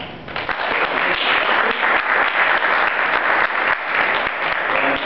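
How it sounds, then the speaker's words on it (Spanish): Sustained audience applause closing a workshop session in Neuquén, a dense steady wash of many hands clapping at fairly loud level for about five seconds, with no talk over it. "primero un aplauso para haber estado hasta acá"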